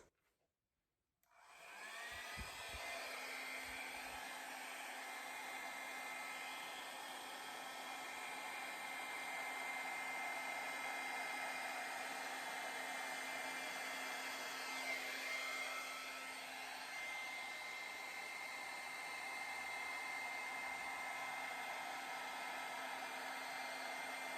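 A hair dryer starts after a second of silence and blows steadily over poured fluid acrylic paint, making a continuous close whoosh with a constant motor whine, uninterrupted by talk.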